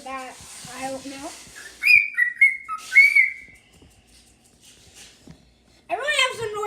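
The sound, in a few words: person whistling imitating a bird call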